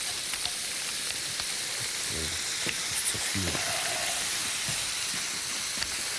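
Food frying in a pan on a kitchen stove, with a steady broadband sizzle and hiss running throughout at moderate, close range, plus brief low knocks from the pan or utensils.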